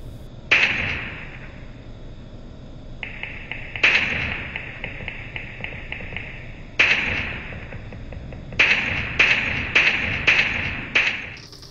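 Sharp gunshot-like bursts from the game PUBG heard through Plextone G2 earphones, a few single shots followed by a rapid cluster of reports, each with a bright ringing tail over a steady low rumble.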